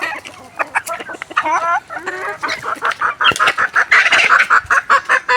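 Roosters and hens cluck and call close by at feeding time, with a rising crow-like squawk early on and a dense, busy flock chatter building toward the end.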